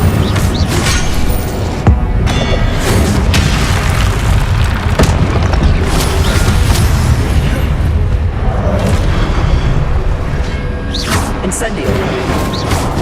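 Incendio fire spell blasts in the Hogwarts Legacy video game, a relentless stream of loud booms, bursts and crashes layered over constant battle din, with shouted voices throughout.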